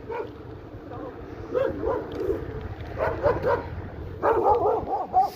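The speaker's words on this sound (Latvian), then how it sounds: "Suni." Dogs bark and yip in quick bursts, fairly close and loud, with a voice talking at times alongside the barking.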